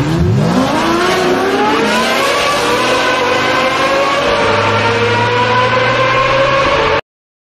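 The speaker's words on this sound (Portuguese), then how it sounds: "faria o efeito de como se fosse o ronco desse carro aqui" A Ford Mustang engine roars loudly and close, its pitch climbing steadily as it revs up, then holding a strong, throaty drone before it cuts off abruptly.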